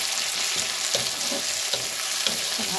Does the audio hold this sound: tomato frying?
yes